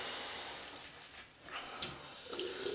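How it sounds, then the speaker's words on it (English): A tap runs water into a sink while someone prepares to shave with a Gillette Rubie Click double-edge razor, a faint steady hissing flow with a small clink midway. "just gather a bit of water off the tap, from the tap"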